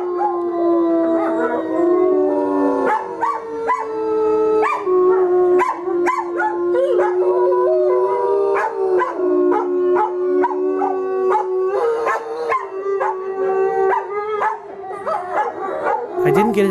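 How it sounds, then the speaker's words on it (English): Wolves howling in long wavering tones, with a dog joining in with higher yips and howls, loud and continuous. "These wolves here are just howling right with Oscar"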